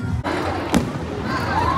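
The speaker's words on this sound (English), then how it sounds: "Now it's time for the final and the main thing for the 4th of July celebration, the fireworks." Fourth of July fireworks at the Six Flags Great America amusement park pop and thud at a distance over steady crowd murmur, with a couple of sharper bursts standing out.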